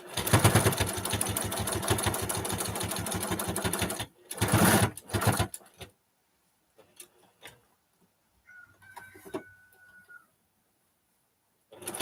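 A sewing machine runs in a steady fast stitching rhythm while string piecing a quilt, pausing briefly and restarting in short bursts before falling quiet, with faint handling sounds after.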